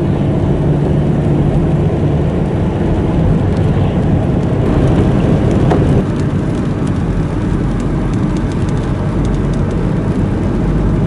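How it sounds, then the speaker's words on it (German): Steady rain falling in the mountains near Ramsau in May, a loud, unbroken wash of broadband hiss that continues for the whole stretch with no voices. "Leider hat es wieder angefangen zu regnen"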